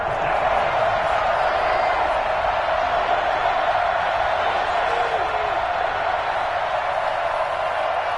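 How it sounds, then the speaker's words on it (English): A football stadium crowd roars ahead of a big third down in a Green Bay versus Vikings game, a dense, sustained wash of cheering that stays loud and even throughout. "the crowd getting into it as we come up on a big 3rd down"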